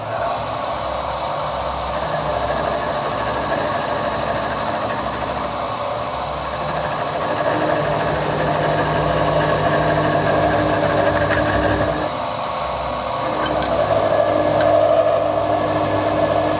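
Milling machine squaring the ends of an alloy bullet mould block, a steady whirring cut with a constant motor drone and a faint high tonal whine, running continuously and moderately close with no talk.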